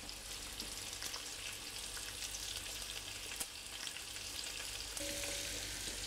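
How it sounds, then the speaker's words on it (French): Aromatic vegetables sweat gently in a pan over low heat, giving a soft, steady sizzle that runs without pause, quiet and close, with no voices. "on baisse le feu à feu doux pour que tout ça maintenant commence à suer tranquillement"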